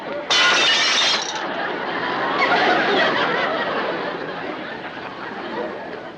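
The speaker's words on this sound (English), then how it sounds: "I can drop another piece of glass and break it, just like we did before" A piece of glass is dropped and shatters as a radio comedy sound effect: a loud crash and burst of breaking glass, then a sustained tinkling scatter of shards with faint background chatter.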